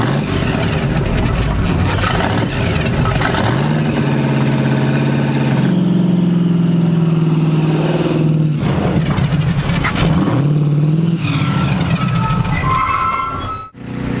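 The Tide Car's engine runs loudly and continuously while the car is loaded onto a trailer, with a steady rumbling drone that shifts in pitch before briefly dropping off near the end.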